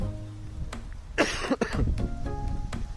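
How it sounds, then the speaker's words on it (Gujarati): A person coughs a few times in a short burst, close and fairly loud, over a low background hum. "આજે મને ઉધરસ છે"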